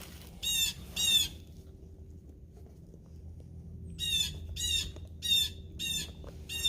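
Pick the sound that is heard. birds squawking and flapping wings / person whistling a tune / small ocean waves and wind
birds squawking and flapping wings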